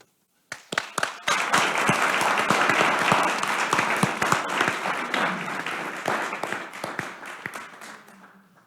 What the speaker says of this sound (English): I'd love the applause to go to the staff.